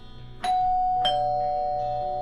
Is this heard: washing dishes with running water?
no